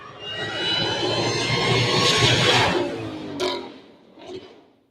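A sports car on a test drive roars loudly past with a harsh, jet-like engine howl that builds and then fades, followed by two shorter bursts of revving as it corners.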